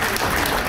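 Dense applause from a crowd welcoming party leaders at a BJP joining event in Odisha, a steady close wash of clapping with no talk over it.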